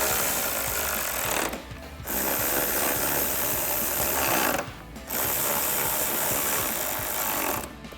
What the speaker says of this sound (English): we'll grab our 10mm socket to tighten these down